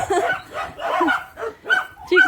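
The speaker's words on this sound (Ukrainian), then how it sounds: "Коли гуляють собачки, це, звісно, дуже весело." Several dogs, including young puppies, bark and yip in quick, excited bursts close by while out on a walk, the yelps overlapping in an irregular rhythm.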